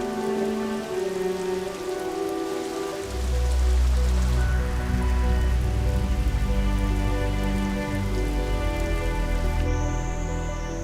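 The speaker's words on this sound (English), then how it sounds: "Showers give way to torrential downpours as the full force of the rains hits" Torrential monsoon downpour drenching the forests of Indochina, a dense, steady roar of heavy rain hitting surfaces, swelling louder partway through and continuing without a break, with no talk.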